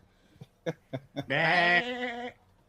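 A sheep bleat used as a comic sound effect: a few short clicks and bumps lead into one loud, wavering, nasal bleat that holds for about a second before fading, with no talk over it.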